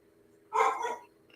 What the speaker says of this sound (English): that's my dog barking at passerby.